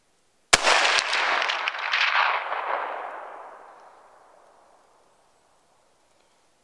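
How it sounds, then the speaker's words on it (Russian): A single rifle shot fired from a rifle fitted with an iRay Geni GL 35R thermal scope cracks out loud and close, then rolls away in a long echo that fades over several seconds into quiet. "Выстрел произвел."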